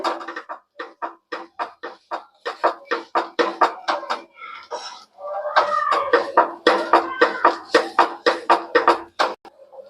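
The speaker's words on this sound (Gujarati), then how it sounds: "આ બધી વસ્તુને એકદમ સરસ મિક્સ કરી લઈશું અને બટેકાના કોઈ પણ ટુકડા ન રહે તે રીતે આપણે મિક્સ કરવાનું છે" Potato filling for mini semolina samosas being mixed with spices in a bowl: close, rhythmic tapping and knocking of a spoon against the bowl in quick bursts, with short pauses between the runs.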